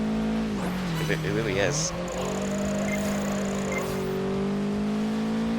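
An all-wheel-drive rally car drifting in Project Gotham Racing 4, its engine droning steadily with pitch dips and rises through the slide, while a voice briefly talks over it.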